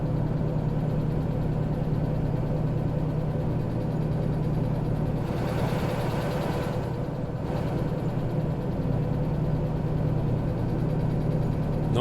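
Locomotive engine idling in the train game Derail Valley, a steady loud diesel rumble with a constant low drone that rises briefly in the middle then settles, no voices.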